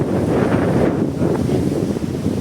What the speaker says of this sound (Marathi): आता समुद्राच्या एकदम जवळ आलो आहे